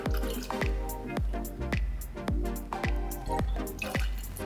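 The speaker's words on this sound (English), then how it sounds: "The egg white's in there, so I'm gonna add the gin." Gin pours into a cocktail shaker holding egg white, a gurgling liquid stream with regular glugging pulses, close and fairly loud, with no talk.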